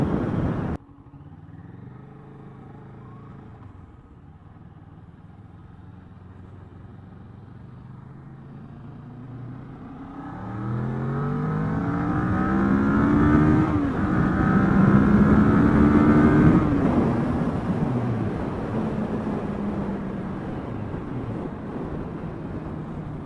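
Sue's new green motorcycle being revved on the ride home, engine note climbing and falling in a series of loud revs over wind noise, building from a quieter idle.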